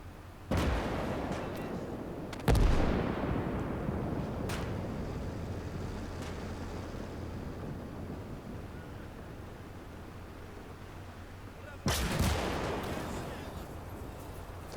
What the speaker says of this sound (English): That sounded like an 88 firing.